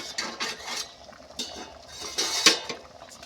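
A lid clinks down onto a cooking pot of lentils with drumstick leaves, a few light metallic taps and scrapes ending in one sharper clank, close and alone.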